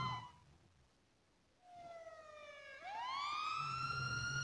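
A police siren in the video game GTA 5 starts up and rises into a steady wail, with a second siren tone joining, loud and synthetic-sounding with no talking.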